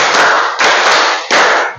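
A group of people clap their hands in unison during a clapping game, three loud sharp claps landing close together, each ringing briefly, with no voices over them.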